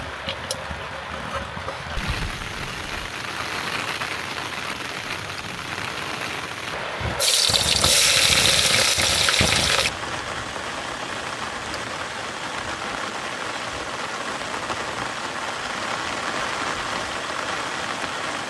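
Rain falling on a forest campsite at night in Odisha, a steady, dense patter throughout, with a louder, heavier burst of splashing for a few seconds in the middle, and no voices.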